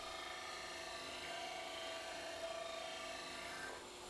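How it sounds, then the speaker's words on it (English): Disc sander grinding a curve into the wood of a folding camping stool, a steady high whine with rasping abrasion held for about four seconds before easing at the end. "So I just use the disc sander for this."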